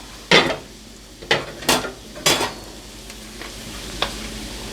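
Sausage going into a hot pan on a home stove, giving a few sharp clatters and scrapes of stirring over a soft steady sizzle, close and moderately quiet.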